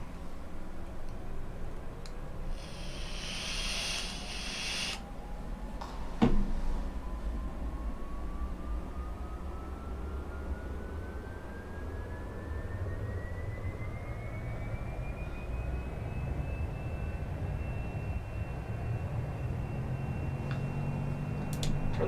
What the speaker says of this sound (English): I'm going to start all engines to running.